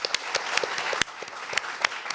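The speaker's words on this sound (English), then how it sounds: "the first thing I want to do is give a round of applause to both Malu and Venetia." Applause from an audience at a talk on Syrian protest art: a dense patter of clapping with a few sharper, louder claps standing out over about two seconds, at moderate level.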